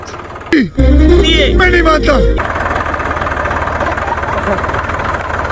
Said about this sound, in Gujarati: ટ્રેક્ટર સ્ટાર્ટ કરી દીધું છે